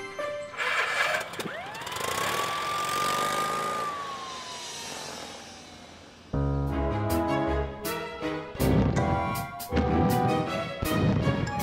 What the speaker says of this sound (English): Morphle, morph into a police car.